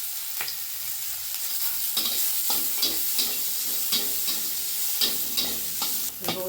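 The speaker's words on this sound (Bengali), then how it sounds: "পেঁয়াজটা বেশ হালকা ভেজে নিতে হবে" Chopped onion and green chili sizzling in hot oil for a lentil-and-ash-gourd stuffed paratha filling, a steady crackle broken by repeated scraping stirs of a spatula.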